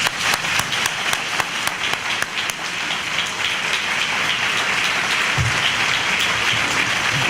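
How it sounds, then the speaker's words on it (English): A pre-commencement audience gives loud, sustained applause for a public health award, the dense clapping forming an even wash with a few sharper individual claps near the start. "please give an outstanding applause for our Thompson Public Health Award"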